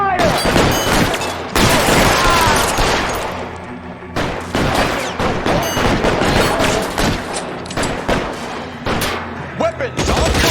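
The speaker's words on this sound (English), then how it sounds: "Covering fire!" Rapid gunfire in a shootout from the video game L.A. Noire, with loud bursts of automatic and single shots cracking in quick succession, brief pauses between volleys, and shouted voices mixed in.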